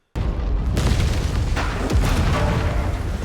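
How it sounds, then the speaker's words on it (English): Heavy bombing explosions from the Monarch: Legacy of Monsters TV series, a circular bombing run over a hidden Titan nursery, roll out as one continuous loud, deep booming rumble with a sharper blast midway, no talk. "The team use a circular bombing technique to reveal the hidden Titan nursery below."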